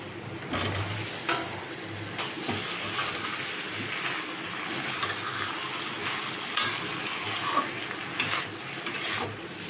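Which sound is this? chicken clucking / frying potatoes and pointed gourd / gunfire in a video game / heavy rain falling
frying potatoes and pointed gourd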